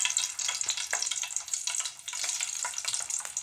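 Pakora made with red amaranth, Malabar spinach and lentils sizzles in hot oil, a close, busy crackling hiss with small bubbling pops and brief stirring clicks throughout.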